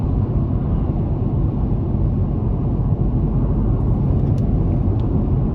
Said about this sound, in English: And road noise is minimal